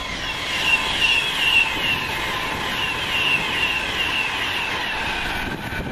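A train passing through Wolverton station on a London Euston to Birmingham service, heard as a loud, steady rumble with a sustained high whine that holds throughout and fades slightly near the end.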